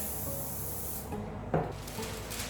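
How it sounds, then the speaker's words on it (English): Short airy hiss of canola oil spray onto a baking tray lasting about a second, then a brief knock and quieter hissing. "Grab some canola spray and just lightly spray the tray."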